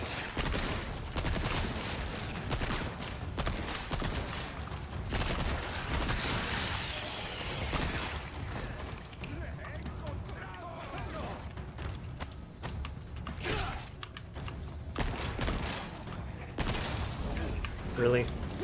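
Gunfire in Resident Evil 4 Remake rattles on and off through a dense, loud game soundscape, with a player talking over the shots.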